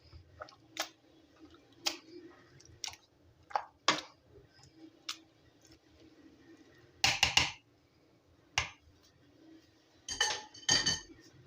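A utensil knocks and scrapes against a metal pot in uneven bursts as cooked zucchini is mashed for a pudding, close and clattery with quiet gaps.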